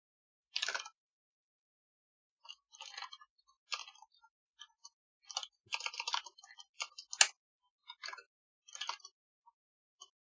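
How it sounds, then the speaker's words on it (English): Keys clatter on a computer keyboard while code is typed, in scattered bursts of close, crisp clicks separated by short pauses, with no voice over them. "I'm typing most of it anyway."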